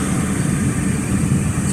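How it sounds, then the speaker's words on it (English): A car's cooling fan runs with a steady, loud whooshing drone and a low rumble, unchanging throughout with no voices. "Sorry for the fan noise, guys. My car is hot."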